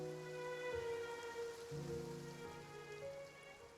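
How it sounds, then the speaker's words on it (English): Rain falls in the video game Genshin Impact, a faint steady patter beneath sustained tonal background music, with no voices. "It rained for longer than I suspected."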